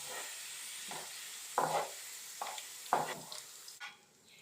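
Prawns fry in hot oil in a pan for prawn biryani, a steady close sizzle broken by several scraping stirs, with no talking.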